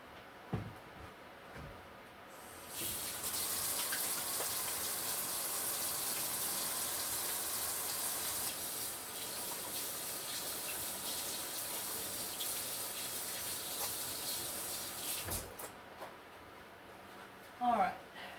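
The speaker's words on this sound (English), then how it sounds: "Wash my hands." Tap water runs steadily into a kitchen sink during hand washing while cooking salmon patties, a continuous broadband gush lasting about twelve seconds, close and fairly loud, ending with a few knocks.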